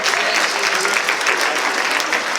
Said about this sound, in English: How about another round of applause for Reese Reese?